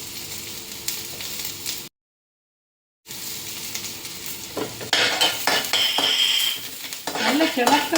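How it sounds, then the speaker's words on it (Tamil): Garlic frying in ghee for Andhra-style paruppu podi, sizzling steadily while a utensil stirs and scrapes the pan with metallic clinks, close up; the sound drops out completely for about a second before resuming busier. "நெய் விட்டுட்டு இந்த பூண்டை நல்லா செவக்க வறுத்து எடுத்துங்க"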